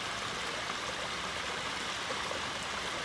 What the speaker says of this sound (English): you can hear the trickling of water and it sounds pretty and it's peaceful